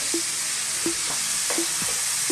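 Beef browning in a pan with mustard seeds, cardamom and cumin seeds, a dense steady sizzle overlaid by a few soft, regular scraping stirs, close and loud, no talking.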